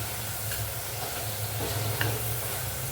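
Spices and ingredients sizzle and fry steadily in hot oil while rasam is being cooked, with occasional stirring clinks over a continuous close crackling hiss.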